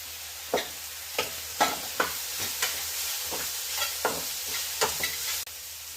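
Carrot, beans and green chilli frying in a pan for cutlets, a soft steady sizzle broken by about a dozen sharp spoon scrapes and knocks in an irregular stirring rhythm, close by with no voices.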